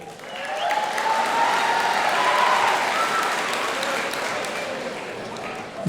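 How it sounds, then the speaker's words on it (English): An audience at a school awards assembly for a Milken Educator Award breaks into sustained, dense applause, loud and steady throughout before tapering slightly near the end. "It's nice for you to applaud him today."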